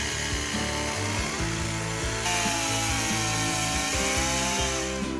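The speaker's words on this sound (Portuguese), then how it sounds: "Eu utilizo a T435. É uma motosserra profissional de poda da Husqvarna." Husqvarna T435 professional pruning chainsaw carving a wooden sculpture, its engine droning and shifting pitch as it revs and cuts into the wood, loud and close throughout with no speech.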